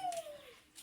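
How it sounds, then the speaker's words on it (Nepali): A black dog gives a thin, falling whimper, a single high whining note sliding downward over about half a second, close and fairly quiet with faint noise after. "यो हो काली कुकुर"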